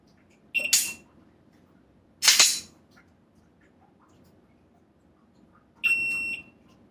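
Three short electronic shot-timer beeps with long, uneven gaps between them during shooting drills; each is sharp and high-pitched over a quiet background.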